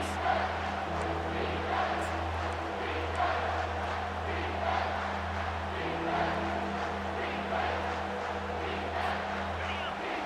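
A stadium crowd in a college football video game roars steadily behind the defense, a sustained cheer running under a commentator's voice throughout.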